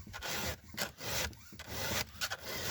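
Dull cutting tool being sharpened with steady back-and-forth rasping strokes, close and fairly loud, in an even rhythm with short pauses between passes.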